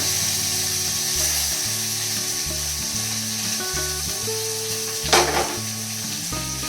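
Onions dropped into hot oil after curry leaves have spluttered, frying with a loud, steady close sizzle and crackle, a sharp burst of spatter near the end; no voices.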